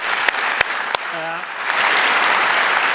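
Applause at a lecture starts with a few sharp separate claps and a short spoken word, then swells into steady, moderately loud clapping from the audience.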